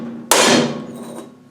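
A single sharp metallic clang of a hammer striking a metal shield on a transfer box part, loud and close, ringing briefly before fading, with no talk.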